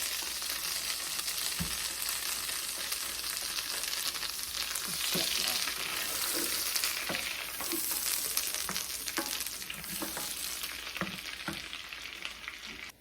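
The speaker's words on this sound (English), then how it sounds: "Turn that down to medium heat. Lots of butter." Butter melts and sizzles over medium heat in a seafood boil pot, a steady crackling fry with occasional stirring clinks and scrapes, close and fairly loud throughout with no talking.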